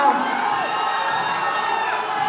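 Crowd cheering and shouting at a men's bodybuilding novice contest, a dense wash of voices with whoops and pitched calls, continuous and loud throughout.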